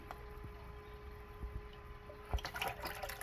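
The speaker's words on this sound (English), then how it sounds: "You can see that it's filtering just fine." A hygger 3-in-1 aquarium filter runs in a tank, giving a faint, steady trickle of moving water over a constant low hum, with a few soft drips and splashes and no voices.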